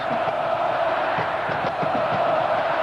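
A packed football stadium crowd at a 1991 Alabama versus Tennessee game roars in a steady, sustained wall of cheering, with scattered whoops and yells rising within the din.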